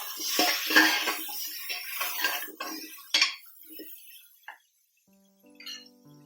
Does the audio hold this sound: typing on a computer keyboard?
no